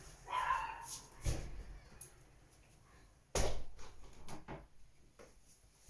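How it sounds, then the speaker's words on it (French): Dogs bark intermittently at a distance, a few sharp yaps and barks scattered over quiet background with some soft thuds. "j'entends des chiens aboyer"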